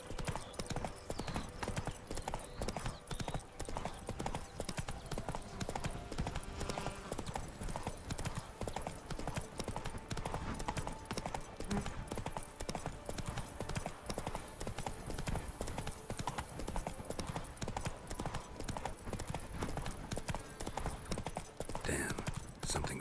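Roach, Geralt's horse in The Witcher 3 video game, gallops in a steady, continuous clip-clop of hooves that stays loud and even throughout, set against a dense game soundscape with no talk.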